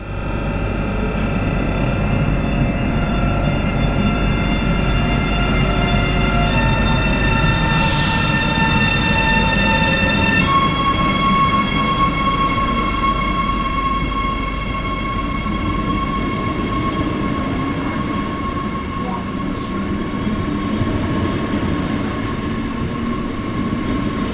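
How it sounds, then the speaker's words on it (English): IC2 intercity train pulling out of Bamberg station, a loud close rumble of the carriages with rising whining motor tones that step upward as it accelerates, and a brief high squeal partway through, no voices. "we can take a final look at the departure of our train here from the station of Bamberg"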